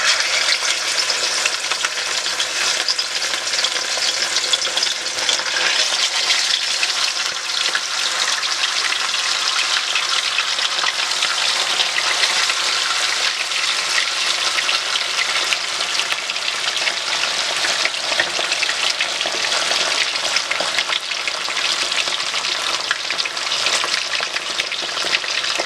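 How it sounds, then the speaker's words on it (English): Steady, dense sizzling of fish frying in hot oil, a continuous crackling hiss that stays loud and even throughout with no talking. "we're going to drop it in there and start frying"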